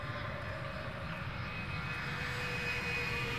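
A steady, continuous roar of an airplane flying overhead in the video game Left 4 Dead, a broad engine drone that holds even and fairly loud throughout with no talk.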